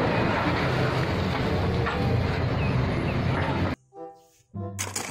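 A train called Thomas rolls past nearby, a loud continuous rumble and rattle of wagons that cuts off abruptly near the end, followed by brief quieter bursts.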